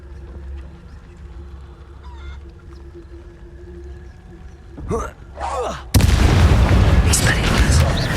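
A Confringo blasting spell goes off in the Hogwarts Legacy video game: after game ambience and a couple of rising whooshes, a loud, sudden explosion bursts in and its roar carries on to the end.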